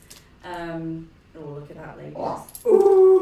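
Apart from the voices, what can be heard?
dog whimpering, having a meltdown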